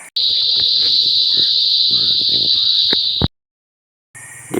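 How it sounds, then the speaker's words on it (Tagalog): Crickets chirp at dusk near a river mouth in a loud, continuous, shrill trill that drones steadily, cuts out abruptly near the end, then resumes after a short silence. "maingay na yung mga kulisap or kuliglig"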